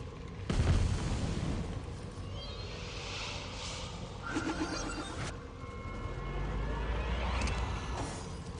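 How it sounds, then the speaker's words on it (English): Trap explosion in the PC fantasy role-playing game Divinity: Original Sin Enhanced Edition, a sudden booming blast followed by rumbling fire and crackling game effects over low ambient background, fairly faint overall. "What is causing this to explode?"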